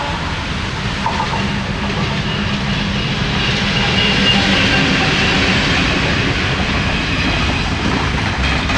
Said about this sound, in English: there's a train passing